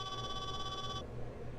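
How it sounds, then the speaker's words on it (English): A phone ringtone in a wrestling video game plays as a steady electronic trill of bright tones for about a second, then cuts off, leaving a low background hum. "That's a different ringtone."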